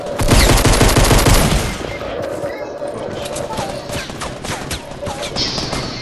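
Rapid minigun fire in a video game: a loud, dense stream of shots dominating the opening seconds, then continuing more faintly alongside scattered gunfire and game noise, with a voice talking over it.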